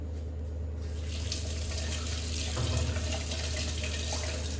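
Tap water runs steadily into a kitchen sink during washing, a continuous close hiss with a slight swell midway through, alone with no voices.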